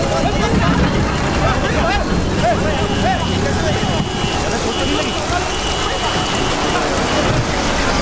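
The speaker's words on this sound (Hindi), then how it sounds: "ए राजा, क्यों बारिश में भीग रहे हो?" Steady heavy rain pours continuously, with faint voices murmuring in the background.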